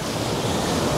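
Steady roar of sea waves washing onto the beach at Botolan, Zambales, a broad continuous surf wash with some wind, no voices, lasting about a second.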